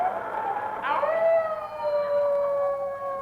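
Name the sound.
howling wind of a winter blizzard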